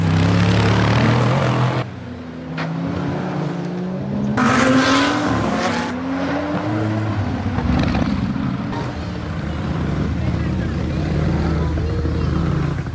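A Toyota Altis race car developed for 24-hour endurance racing revs and pulls away at the Bangsaen Grand Prix, its engine rising through the gears, loud and close over steady crowd and ambient noise, with someone speaking over it.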